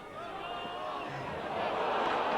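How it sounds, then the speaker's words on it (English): Rugby league stadium crowd at a 1996 Halifax v Leeds Challenge Cup match roaring after a high tackle, a broad, sustained wash of cheering that swells slightly toward the end. "the crowd going bananas"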